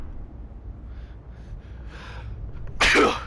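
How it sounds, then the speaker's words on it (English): One sharp, loud sneeze bursts out near the end after a couple of quick indrawn breaths, from a person playing Elden Ring, with quiet room tone before it. "I don't know why I'm sneezing so much all of a sudden."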